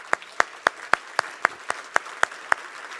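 A few people clap slowly for a family seating company at a family business awards show, about ten sharp, evenly spaced claps, close and fairly quiet, with no voices over them.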